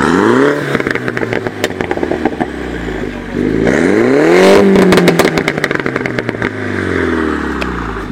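A Mini John Cooper Works 231 with a stock exhaust starts and revs hard, loud and close, with rising and falling engine sweeps and a crackling clatter of exhaust pops between revs.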